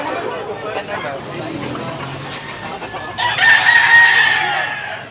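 Roosters at a poultry market in Tabunok, Cebu crow loudly over a busy background of voices and clucking, with one strong call rising in the last two seconds.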